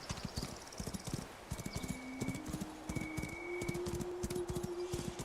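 A horse in the video game Where Winds Meet clip-clops along at a steady walking rhythm, the hoofbeats close and regular over a soft ambient bed, with faint tonal game sounds and no talking.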